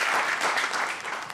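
Theatre crowd at a Hungarian stand-up solo show giving a short burst of applause, dense clapping that starts full and begins to thin out toward the end.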